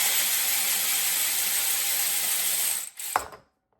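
Ratchet wrench turning rod bearing bolts on an engine still in the car, a steady continuous clicking that runs close and loud, then cuts off with a brief knock and fades to silence.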